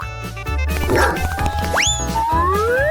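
A dog yips and barks in a few short bursts over busy background sounds, with cartoonish sliding boing-like tones sweeping up nearby.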